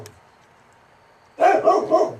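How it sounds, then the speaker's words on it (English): A dog barks three times in quick succession, close and fairly loud, after a quiet stretch with no voices. "My dog likes to bark."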